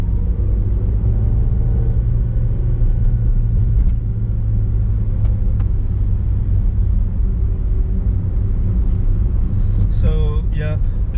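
Volkswagen Polo with a rebuilt engine driving in traffic during its run-in period, a steady low rumble of engine and road noise inside the cabin, with a brief squeak near the end.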